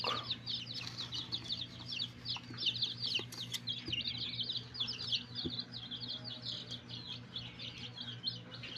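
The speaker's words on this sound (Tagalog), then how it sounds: "Ngayon ay magpakain ako ng aking mga alagang manok." Backyard pet chickens, with new chicks nearby, cluck and chirp steadily through a feeding, a busy cluster of bird calls over a low constant hum.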